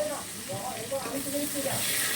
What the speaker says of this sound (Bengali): আলুটাকে এবার একটু ভেজে নেব ওই তেলের ভিতরে।